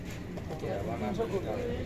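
Pigeons, including Bombai and Giribaz breeds, coo softly at a weekly pigeon market in Magura, with a few short coos over a busy background.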